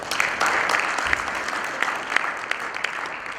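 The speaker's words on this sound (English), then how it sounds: "Please another round of applause for Carlo." Conference audience applauding for a speaker at a technical session, a continuous even wash of clapping from a medium-sized crowd in a room.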